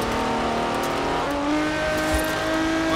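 The engine of a Monster Truck 723 Quartz Regalia Type-D in Forza Horizon 4 drones steadily and climbs in pitch through a gear shift as it drives along a road, loud and continuous.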